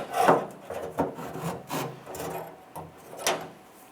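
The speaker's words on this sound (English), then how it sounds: "Now we can lift up on the tailgate without fully closing it and remove that handle." A tailgate handle is worked out of a 1994-2002 Dodge Ram 2500 tailgate: close scraping and rubbing with several sharp clunks and knocks at an uneven pace, moderately quiet and without speech.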